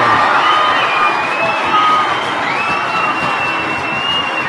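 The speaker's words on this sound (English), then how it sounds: "And hear the crowd roar." Loud crowd roar and cheering from spectators at a Leinster senior hurling match after a point is scored, a sustained near wall of voices with shouts and whoops.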